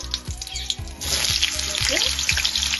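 Dried red chillies and bay leaves hit hot oil and burst into a loud, dense crackling sizzle that continues steadily, with a few soft knocks early on.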